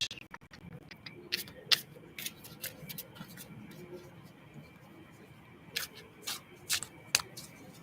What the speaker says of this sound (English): wait there patiently while I shuffle the cards